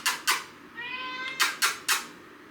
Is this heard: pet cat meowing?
yes